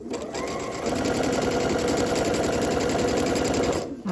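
Sewing machine running continuously and close, a fast, even mechanical whir stitching the sides of a fabric tube, starting and stopping cleanly.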